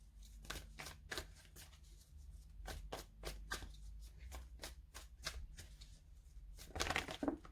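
Tarot cards are shuffled close up in a steady run of crisp riffling flutters, quiet and alone, ending in a denser burst of handling.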